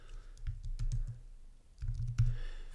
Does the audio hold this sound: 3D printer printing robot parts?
no